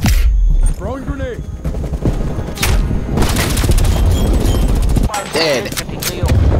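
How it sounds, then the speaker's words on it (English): Grenade blast in Call of Duty: Cold War multiplayer, a loud booming explosion amid dense game gunfire, with a deep low rumble and sharp bursts, plus another detonation later on. "throwing grenade"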